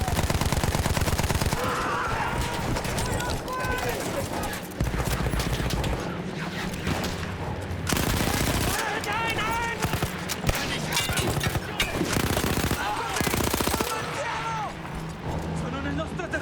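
Mounted gun fires in Battlefield 1 with loud, sustained bursts of automatic fire that run almost without a break, while voices shout and talk over the shooting.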